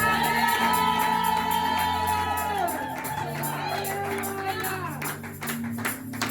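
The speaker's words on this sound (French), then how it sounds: "Acclame Jésus et pousse tes cris de joie" A church congregation cheers and shouts for joy over sustained music, voices blending into a loud, continuous crowd roar with occasional whoops rising above it.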